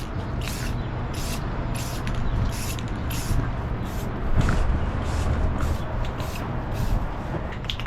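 Bursts of aerosol spray hiss onto a carbon fiber bike frame as the third coat goes on, about a dozen short, evenly paced puffs over a low background rumble.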